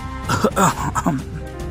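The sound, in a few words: narrator imitating coughing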